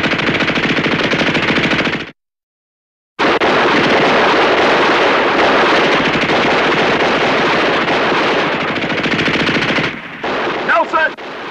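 Enemy machine gun nest firing in a 1960s war-drama battle scene: loud, sustained bursts of automatic gunfire that cut off briefly, then resume and continue with dense rattling and some sharper crackles near the end.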